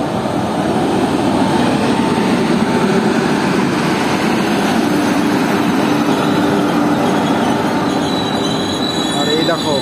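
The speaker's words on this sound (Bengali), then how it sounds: "আর তার এই দিকটায় আমাদের ট্রেন ঢুকছে এখন 3 নম্বরে মেমু প্যাসেঞ্জার" A MEMU passenger train pulls into platform 3 at an Indian railway station, a continuous loud rumble of wheels on rails with metallic squeals and clatter, close by and filling the whole stretch.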